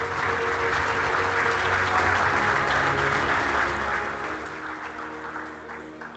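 Audience applause at a security conference award ceremony: a steady, full burst of many clapping hands that holds strong, then gradually thins and fades toward the end.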